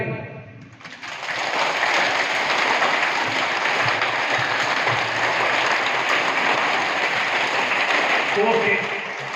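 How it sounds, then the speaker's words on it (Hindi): A school audience claps loudly and steadily after a short start, keeping up continuous applause to the end, with a voice speaking over the first moment. "ऊपर ताली बजी"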